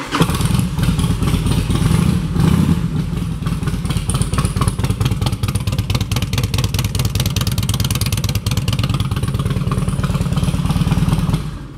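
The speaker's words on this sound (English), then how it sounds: "It's also got a set of I don't know what the hell pipes, but they sound really good" A 2003 Harley-Davidson Road King Police motorcycle with aftermarket exhaust pipes idles steadily at a dealership, its loud, lumpy, close-up rumble holding a continuous uneven rhythm with a few slight blips of throttle.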